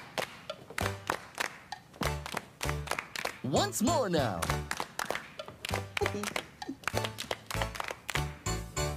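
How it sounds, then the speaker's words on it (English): Rhythmic hand clapping keeps time with a children's song, loud and regular, with a voice talking and singing over it. "Now it's going to be your turn to try the clapping part."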